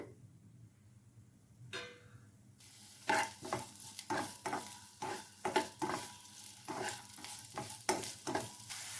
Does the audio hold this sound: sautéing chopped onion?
yes